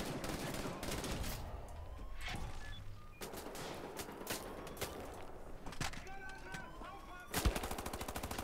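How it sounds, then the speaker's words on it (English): Tommy gun fire in the shooter game Wolfenstein: The New Order, repeated rapid automatic bursts and single shots over game sound and background music, fairly quiet overall. "Fanden, er det en tommy gun?"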